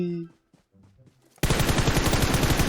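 Rapid automatic gunfire in the mobile battle-royale game PUBG Mobile bursts in loud and dense after a quiet stretch of faint game noises, continuing as a sustained rattling volley to the end.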